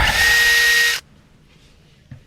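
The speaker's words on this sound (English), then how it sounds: "who gave you a power tool?" Power drill whirring loudly and steadily for about a second before cutting off abruptly, leaving near silence and a faint knock.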